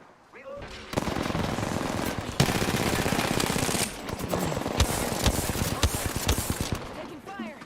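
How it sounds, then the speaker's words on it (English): Apex Legends gunfire rattles almost nonstop, with loud automatic bursts and heavy shots that mostly run together, over a steady game background with occasional voices. "Bloody hell, who's shooting from where?"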